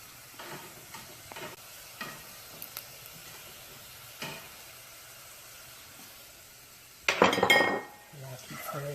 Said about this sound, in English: I'll go ahead and fry the sausage in here